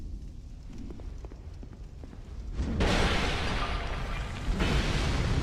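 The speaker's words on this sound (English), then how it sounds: "As a fire explosion R2 attack." Fiery explosion from a heavy R2 weapon attack in Dark Souls 2, a loud broadband burst that swells up and roars on for a few seconds over game background noise.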